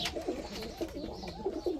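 Soft, repeated pigeon coos close by, low and throaty, with a steady murmur of background noise.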